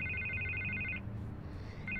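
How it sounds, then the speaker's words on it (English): Electronic telephone ringing in the Batman: The Telltale Series game, a bright repeating trill that sounds for about a second, pauses, then starts again, faint and alone. "I can't get the phone to stop ringing"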